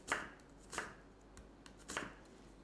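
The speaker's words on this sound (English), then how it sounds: "I'm just going to slice thinly" A knife slices thinly through an onion for homemade chicken liver pâté, three crisp, quiet cuts spaced evenly against the board with faint softer taps between, close and without speech.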